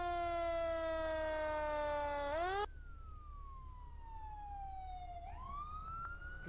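Fire department vehicles arriving at a vehicle collision scene, their sirens wailing loud and close, one steady tone dropping abruptly and then a second siren sliding down and rising again over a low road rumble.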